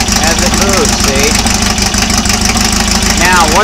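An engine idles steadily on a test run, a continuous mid-pitched running drone with a low rumble, while someone talks over it throughout.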